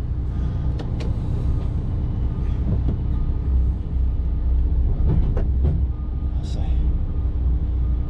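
An HGV truck pulling forward away from a dropped trailer, with a steady, loud low diesel engine drone throughout and a few faint clicks and rattles over it.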